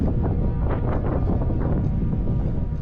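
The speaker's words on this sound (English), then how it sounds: "We got a good 15-20 mile per hour wind whipping through the mountains here" A 15-20 mph wind whips through snowy mountains at a campsite, producing a loud continuous low roar and buffeting on the microphone with no voices.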